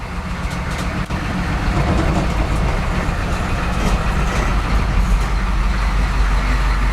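A bug out vehicle pulls away in second gear, its engine giving a loud, steady low rumble from inside the cab with road and drivetrain noise, continuous throughout and no talking.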